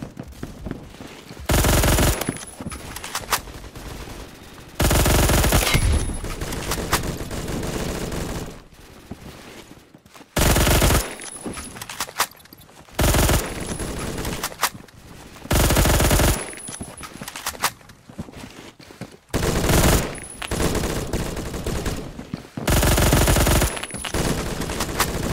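M231 machine gun in the Phantom Forces game firing in repeated long, loud bursts separated by short pauses, with no talk.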